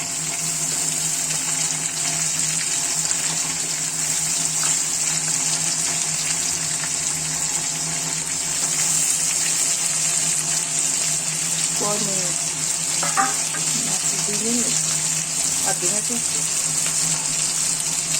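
Chopped onion sizzles steadily in hot oil for a whole fish fry, a continuous close hiss that holds level throughout, with a faint voice briefly underneath toward the end.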